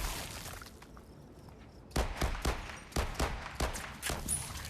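Gunshots ring out in the VR zombie shooter Arizona Sunshine 2, about seven sharp, fairly close reports fired in an uneven rapid string after a quiet pause.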